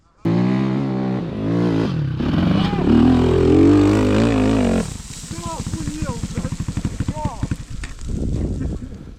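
A Rottor Bronx 300 Chinese enduro motorcycle revs with a throttle blip, then its engine runs in a rapid, pulsing rattle. Someone talks loudly over it, close up.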